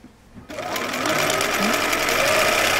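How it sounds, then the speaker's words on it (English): A Bernina 930 sewing machine runs a decorative embroidery stitch, starting after a brief quiet moment, then a steady fast mechanical whir and rapid needle clatter, close and continuous. "this is the Bernina 930. I've got it on the one of the embroidery stitches."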